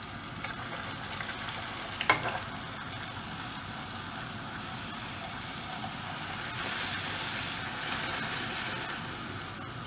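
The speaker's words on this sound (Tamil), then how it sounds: "இப்போ வந்து இந்த பூரியை சுட்டு எடுத்துடலாம்." Balloon poori frying in hot oil, a steady close sizzle and bubbling that holds for about ten seconds with a brief sharp clack partway through.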